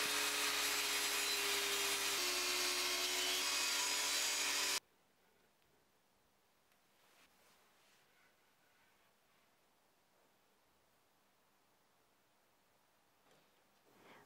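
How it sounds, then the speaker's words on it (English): A rounded edge is cut off a solid wood strip in a dense, loud burst of tool noise lasting about five seconds, then drops to a faint, quiet room with small scattered knocks. "I removed the rounded edge from the wood strip first"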